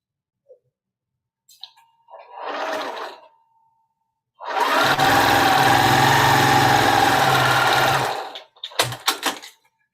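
Sewing machine stitching fabric pieces for a quilted maple leaf, running in one short burst and then a steady, humming run of about four seconds, close by, followed by brief handling clatter.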